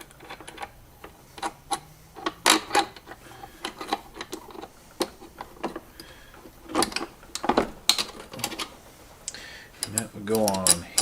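A bolt on the fuel system of a 1971 Chrysler New Yorker is fastened by hand, with a series of sharp metallic clicks and ratcheting ticks in irregular bursts, close up, and brief talk in between.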